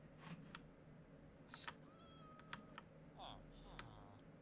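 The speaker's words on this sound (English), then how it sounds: "I'm pretty sure the cat begs noise is them asking for food" Short begging meows from a cat in a video game, faint and spaced out over a low steady hum, with a few brief clicks around them.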